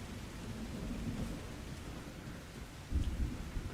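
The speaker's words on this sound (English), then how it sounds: "So, storm's getting rough." Steady rain and a low rumble of thunder fill a storm in the survival video game The Last Caretaker, with a heavier thunder swell near the end and no voices.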